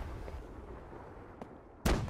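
Naval ship cannons firing in Holdfast Nations at War: a faint distant boom midway, then a loud close heavy blast near the end over low rumbling background.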